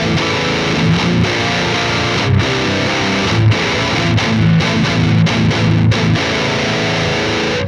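An electric guitar plays heavily distorted, chugging riffs through a Bogren Digital S_Zero amp sim on the Snarly Boy preset. It sounds loud and dense, with brief gaps between phrases.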